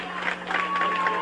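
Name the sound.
crowd cheering at election night event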